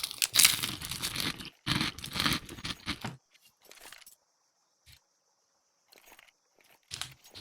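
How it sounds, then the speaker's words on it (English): Close, loud crunching and crinkling as a Nutella B-ready wafer bar is bitten and its wrapper handled, several sharp bites in the first three seconds, then quieter scattered chewing and crackles with silent gaps. "let me crunch on this"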